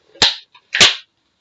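Two sharp snapping twangs of elastic bands stretched on a box, about half a second apart, close and loud, with a faint tick between them.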